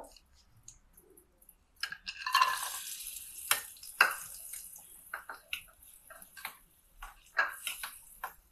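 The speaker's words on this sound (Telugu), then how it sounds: "నెయ్యి వేసుకున్న తర్వాత ఈ డ్రై ఫ్రూట్స్ వేసుకోవాలండి." Dry fruits are dropped into ghee in a pan and stirred, making scattered clattering taps and scrapes over a faint, low sizzle, with quiet gaps between.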